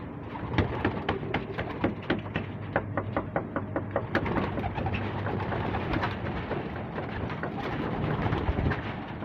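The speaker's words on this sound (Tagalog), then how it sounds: "so palalabasin natin yung mga barata birds natin labas oh labas labas" Racing pigeons burst out of their loft in a steady run of wing claps and flutters, with cooing and soft knocks on the wooden loft continuing underneath throughout.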